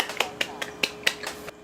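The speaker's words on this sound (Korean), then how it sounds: "진심으로 맛있을 때만 나오는 물개박수도 쳤어요" Enthusiastic seal-style clapping, a quick run of about seven crisp, sharp claps in a steady rhythm, close and moderately loud.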